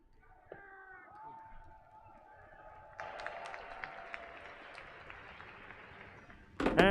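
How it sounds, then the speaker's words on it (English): After a few seconds of quiet tones, a crowd at the EVO fighting game tournament breaks into steady applause, with a louder burst of clapping right at the end. "Please, a round of applause for our 7th place"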